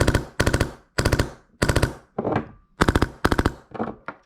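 An HPA-powered ARP9 airsoft rifle fires full auto in short bursts of three to five rapid, sharp, close snaps, separated by brief pauses, with one quieter hissing burst in the middle.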